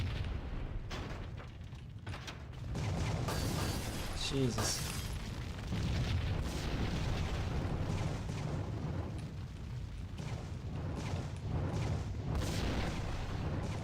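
Deep, rumbling booms and blasts roll through a Max Payne Remastered game session with dense background noise, while a man briefly exclaims over it.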